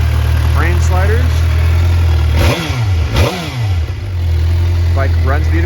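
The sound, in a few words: 2011 Suzuki GSX-R 750 motorcycle engine idling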